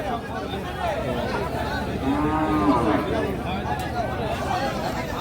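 Sahiwal bull cattle at a busy livestock market lowing and mooing several times, a drawn-out moo standing out over a steady crowd hubbub and chatter, with people talking throughout.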